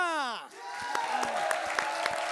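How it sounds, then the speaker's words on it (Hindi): Audience applause at a lively Hindi-speaking gathering, breaking out after a voice fades and building into steady, moderately loud clapping with scattered sharper claps close by. "एक बार जोरदार तालियां।"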